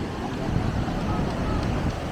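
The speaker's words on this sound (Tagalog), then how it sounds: "It's windy, very windy." Steady, roaring wind on a Boracay beach buffets the microphone with a constant low rumble, loud and unbroken throughout.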